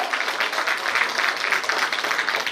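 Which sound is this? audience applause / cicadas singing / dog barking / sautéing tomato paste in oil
audience applause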